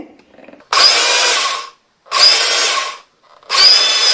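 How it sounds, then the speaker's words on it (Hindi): A mixer grinder jar pulsing roasted sesame seeds into tahini, three loud whirring bursts each about a second long with short silent gaps between them, heard close and alone. "अब इसे हम ग्राइंड करेंगे पल्स मोड पे।"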